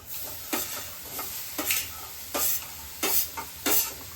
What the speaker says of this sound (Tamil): இப்ப வந்து நம்ம பீட்ரூட்டையும் போட்டு